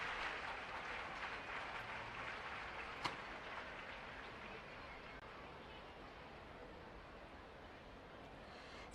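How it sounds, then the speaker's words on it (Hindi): An audience at an Independence Day award ceremony applauds a fire service honoree with a steady, distant wash of clapping that fades slightly over several seconds, with a faint voice in the background. "जोरदार तालियों से आप सहभागी बने।"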